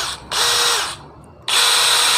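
A DeWalt DCD706 brushless cordless drill spun at its top speed: two loud, high-pitched whirring runs separated by a short pause, close up with no talking.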